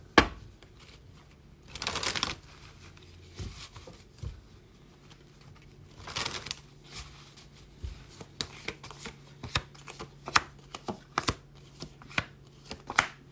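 Goddess oracle cards are shuffled by hand in close, crisp riffling bursts with scattered soft card taps and slaps in between, in an otherwise quiet room.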